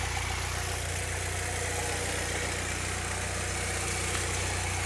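A Saab car engine idles steadily with a constant low hum and no change in pace, heard up close and fairly quiet.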